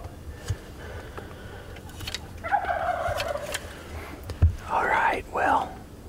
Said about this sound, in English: Well, we can hear them gobbling.